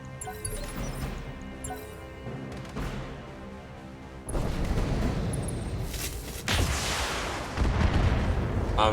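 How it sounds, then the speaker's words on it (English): Heavy weapons fire in a tabletop-style sci-fi battle, all guns going at once: a continuous roaring barrage of booms and crashes that swells louder partway through and keeps rumbling without letup. "Fire in all weapons. Fire."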